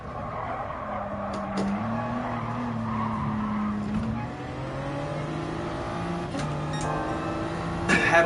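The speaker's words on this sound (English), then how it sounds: "Had a little wheel spin on that last turn" A race car in a racing video game spins its wheels and squeals its tires through a turn, with the engine droning and shifting pitch under several sharp skid bursts.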